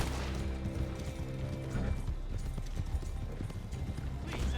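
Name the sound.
horse galloping hooves in a video game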